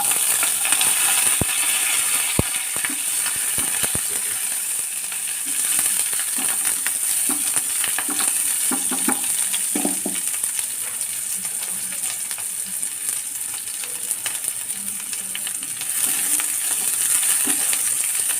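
Curry leaves and onion fry in a pan for elephant foot yam fry, a steady close sizzle with scattered crackles and pops throughout, no voices.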